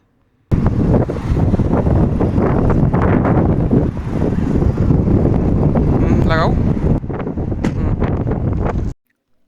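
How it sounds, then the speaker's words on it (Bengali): Strong wind buffets the microphone outdoors at a farm in England, a continuous loud roaring rumble for about eight seconds, with a brief higher whistling tone partway through. "আওয়াজটা শুনেই বুঝতে পারছেন নিশ্চয়ই যে কি পরিমাণ বাতাস ছিল"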